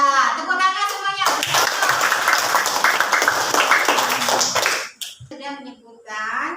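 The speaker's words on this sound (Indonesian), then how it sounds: "Ya, tepuk tangan semuanya." Children in a classroom clap together in a burst of applause lasting about four seconds, framed by a teacher speaking before and after.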